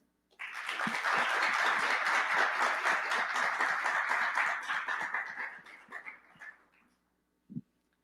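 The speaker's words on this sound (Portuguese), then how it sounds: "Uma salva de palmas para Humberto." An audience at a Brazilian AI and finance conference, RAIA 2025, breaks into steady applause that builds quickly, holds for about five seconds and then tapers off. One last isolated clap follows after a short pause.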